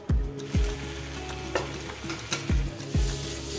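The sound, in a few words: sautéing paneer in a pan with soy and tomato sauce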